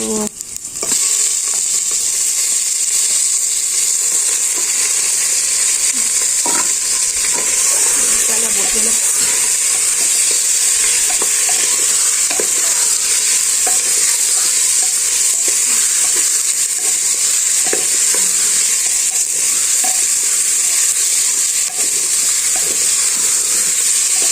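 Pork frying in a pan on a clay stove gives a loud, continuous sizzle and hiss, broken by frequent stirring scrapes and clicks throughout.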